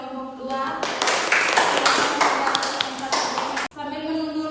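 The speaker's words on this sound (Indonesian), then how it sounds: "beri aplaus kepada kelompok 2" Students in a classroom clap for a presenting group, a burst of mixed hand claps that swells for a few seconds before cutting off abruptly, with a voice speaking before and after the clapping.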